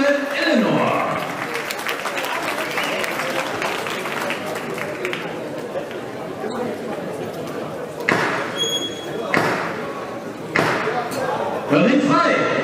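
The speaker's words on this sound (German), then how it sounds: "Euer Applaus für Pavel!" Crowd at an amateur boxing event in a hall applauds with sustained clapping through most of the stretch, with sharp knocks and a ringing ping near the end and a voice faintly under the noise.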